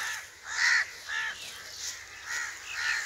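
Crows caw in a bamboo forest in Pakistan: four or five loud, harsh calls in an uneven series, close by, with no talk.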